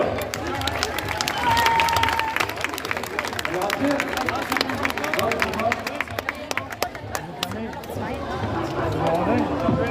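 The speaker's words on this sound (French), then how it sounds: "On peut applaudir bien fort ces demoiselles." Outdoor crowd clapping and cheering at a Taureau Piscine bull event in Saint-Laurent-d'Aigouze, honoring young women; steady dense applause with chatter and a voice over a PA throughout.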